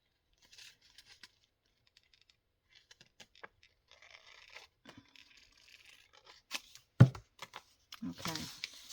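Paper being rough-cut with scissors for a journal: faint, sparse snips and rustles in a quiet room, ending with a few louder crinkles and handling noises.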